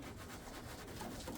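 An Indian fantail pigeon cooing softly, a low, continuous murmuring coo that is faint and partly buried in steady background noise, with no talk.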